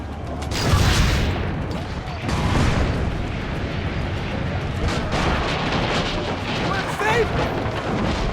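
Cannon fire in Assassin's Creed Brotherhood during a siege of town walls: heavy booms land about two seconds apart over a dense, continuous battle roar, with voices mixed in.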